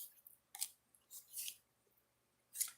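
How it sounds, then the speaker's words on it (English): Deck of oracle cards being shuffled, a few quiet, crisp riffling bursts spaced by short pauses, close by in a quiet room. "Got to shuffle the deck,"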